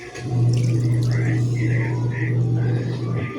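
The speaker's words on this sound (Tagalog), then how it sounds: "Lagyan natin siya ng konting tubig." Water pours into a pot of adobo simmering in Sprite with oyster sauce. A steady low hum runs beneath a few short splashing bursts, and a voice talks over it.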